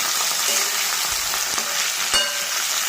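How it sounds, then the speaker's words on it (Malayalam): Food fries in oil in a pan at a village cooking spot, a dense, steady sizzle close by with a few sharp knocks as it is turned over with a spatula, and no talking. "ഇത് എണ്ണയിൽ തിരിച്ചും മറിച്ചുമിട്ട് വേവിച്ച് എടുക്കാം"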